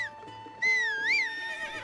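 A horse in The Legend of Zelda: Breath of the Wild, summoned by a whistle, gives a loud, close, rising and falling whinny that holds for over a second before trailing off.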